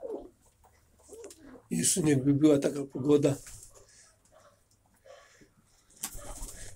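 Pigeons coo in low repeated bursts near someone speaking Polish outdoors in a loft setting, the cooing mixed under and between his talk.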